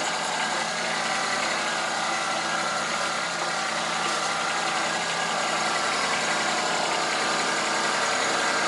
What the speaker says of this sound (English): We're gonna let Teana drive the tractor today.